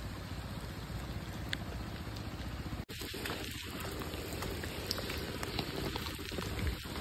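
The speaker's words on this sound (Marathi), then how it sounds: "खूप पाऊस आहे मित्रांनो." Heavy monsoon rain falls on open farm fields, a steady, fairly faint hiss with occasional drips and soft knocks, no voices.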